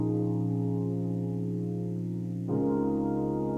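A warm future bass synth pad swells through a lush Valhalla Room reverb with high cut, holding a thick sustained chord that shifts to a new chord partway through, steady and loud with no talking.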